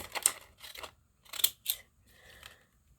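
Scissors snip through an old paper cross-stitch pattern in several crisp, close cuts with short pauses between them, quiet and without talk.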